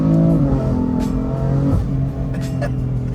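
Sporty engine note from a BMW F80 M3 with a new aftermarket exhaust, a steady loud drone under acceleration inside the car, fairly smooth and not raspy, with faint voices in the cabin.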